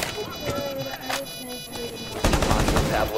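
Rainbow Six Siege match gunfire: a rapid burst of shots cuts in near the end over a background of steady game noise and faint voices, loud and close.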